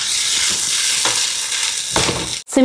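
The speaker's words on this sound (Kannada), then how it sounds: "ಈ ರೀತಿ ಆದಮೇಲೆ ಜಿಂಜರ್ ಗಾರ್ಲಿಕ್ ಪೇಸ್ಟನ್ನು ಹಾಕೋಣ. ಚೆನ್ನಾಗಿ ಫ್ರೈ ಆಗಲಿದ್ದು." Browned onion with ginger garlic paste fries in a pan. A loud, close, continuous sizzle runs throughout, with scraping stir strokes and a brief drop near the end. No talk is heard.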